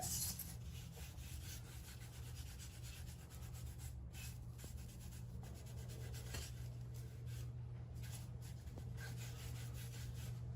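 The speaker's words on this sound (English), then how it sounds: "I am going to stain this with a super dark stain just to see how it comes out. It's dark walnut." A cloth or applicator rubs dark walnut stain onto a sanded veneered wooden box, making quiet, repeated soft rubbing strokes over a low steady background hum.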